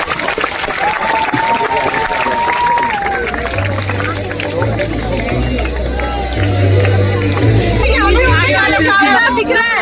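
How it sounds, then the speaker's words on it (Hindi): Crowd applause and cheering for soldiers, mixed with heavy hubbub and chatter from a large gathering, loud and sustained, with voices rising over the clapping and low rumbling underneath. "हमारे बहादुर जवानों का जोरदार तालियों के साथ हौसला अफजाई करें"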